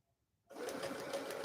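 A sewing machine starts up abruptly after a brief silence and stitches fabric at a fast, even pace, its rapid mechanical whir and needle clatter steady and close.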